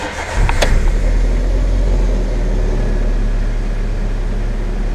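A 2007 VW Polo Sedan 1.6 engine cranks briefly and catches, then settles into a steady, loud idle close by.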